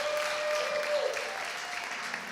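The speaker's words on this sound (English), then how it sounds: "Can we have another round of applause" Audience applause at a spiritual gathering on finding peace, a steady wash of clapping lasting a couple of seconds at moderate distance, with no voices over it.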